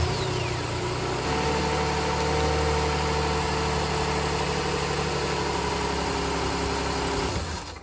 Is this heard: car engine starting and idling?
yes